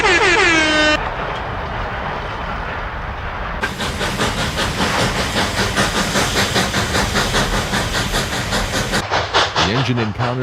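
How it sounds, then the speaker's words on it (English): A steam locomotive hitting a 4% grade on the climb toward a mountain summit gives a short whistle blast, then a loud, close, rhythmic exhaust beat that grows heavier and steadier as the engine labors. "From here to the summit, it will be an all-out battle, with the locomotive really having to work to reach the top at Cum Pass."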